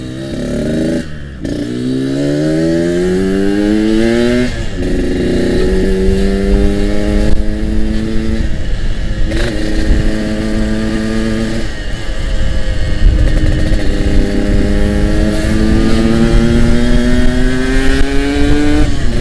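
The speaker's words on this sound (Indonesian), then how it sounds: "untuk menghasilkan suara lebih jelas dari knalpot, dan pastinya jauh dari suara angin." A Yamaha RX King two-stroke motorcycle exhaust under way, loud and close, rising in pitch through each gear, with several shifts and drops between accelerations and a constant buzzing tone throughout.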